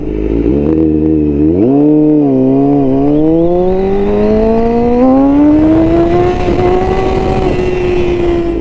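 A 2021 Honda CBR1000RR-R Fireblade SP with a flashed ECU revs up hard under acceleration, its engine note climbing steadily in pitch through the gears, loud and close throughout with steady wind noise.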